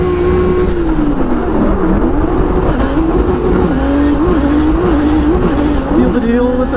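A drift car in a competitive drifting battle in Brazil revs hard, its engine note rising and falling with shifts while tires hiss and squeal, loud and close from inside the car.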